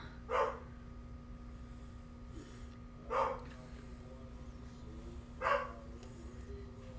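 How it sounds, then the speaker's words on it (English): Three sharp dog barks spaced a few seconds apart, somewhat distant, over a steady low hum. "they're barking"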